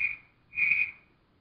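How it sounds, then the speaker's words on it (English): Two sharp, steady whistle blasts sound in quick succession as a signal on a film set, loud and clear against a quiet background. "Give Slim two whistles, Johnny."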